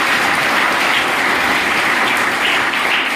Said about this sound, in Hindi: तो एक बार सर के लिए भी जबरदस्त ताली होना चाहिए